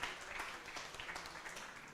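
Faint applause from a crowd at a conference, an even patter of clapping hands heard from a distance, steady for the whole stretch.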